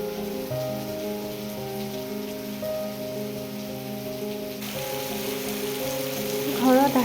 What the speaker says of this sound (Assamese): আৰু এয়া ইমান ধুনীয়া বৰষুণ দিছে,